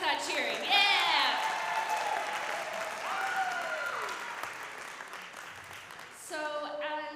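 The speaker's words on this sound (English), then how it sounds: "let's practice that cheering" Audience at a fine arts retreat cheering loudly and applauding, with whoops and high excited voices over steady clapping throughout, swelling again near the end.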